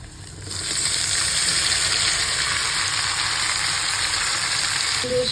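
Chopped tomatoes for chutney sizzle loudly in hot oil, a steady bright crackle that starts abruptly and holds evenly throughout, close up.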